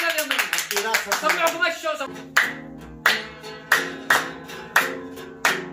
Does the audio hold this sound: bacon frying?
no